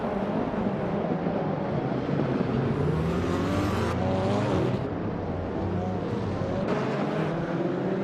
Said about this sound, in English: the race is underway at Oschersleben, and starting on pole is the TCR class car, a 2016 Audi T-Type